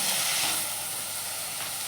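Mixed vegetables with tomato frying in a pan, a steady broadband sizzle and hiss that eases slightly partway through, with no voices.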